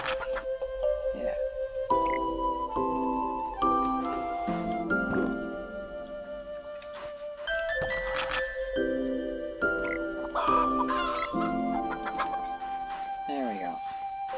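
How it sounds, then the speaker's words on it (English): Giant chickens in the farming game GardenPaws, clucking in short bursts among bright game sound effects and music, with a person talking over much of it. "Those are giant chickens."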